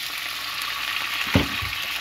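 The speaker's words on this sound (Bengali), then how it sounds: "হাঁড়িতেই সেম ফ্রাইতে আমি একটু হালকা করে ভেজে নেব" Hard-boiled eggs dusted with turmeric sizzle and crackle as they fry lightly in a pot, a steady hiss with one sharper burst of spattering near the end.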